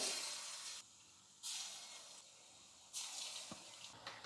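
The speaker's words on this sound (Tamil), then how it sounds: "இப்போ கொஞ்சம் கொஞ்சமாக மாவு எடுத்து எண்ணெயில் போட்டுக்கிறேன்" Spoonfuls of bonda batter dropped into hot oil in a kadai sizzle with a steady broad hiss that swells in several surges as more batter goes in, close and fairly quiet.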